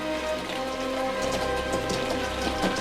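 Heavy rain pours steadily onto surfaces at an outdoor burial site, a dense, continuous hiss with scattered drop patter, loud and close throughout with no voices.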